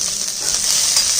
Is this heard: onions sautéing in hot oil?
yes